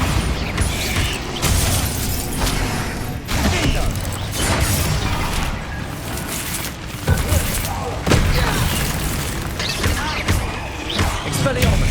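Bombarda blasting-spell explosions in the video game Hogwarts Legacy, with repeated booming bursts and clanking mechanisms in a dense, continuous combat mix.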